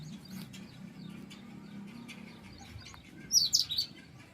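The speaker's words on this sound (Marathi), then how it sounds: "आपल्या गार्डनमध्ये भेटायला आलेली छोटीशी चिमणी" Soft low rumbling background on a garden terrace, then a sparrow breaks in with a short run of sharp, high chirps near the end.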